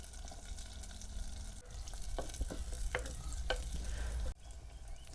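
Onions frying in a pan with crushed sesame and peanut powder, giving a steady close sizzle broken by several sharp scraping strokes of a spoon against the pan.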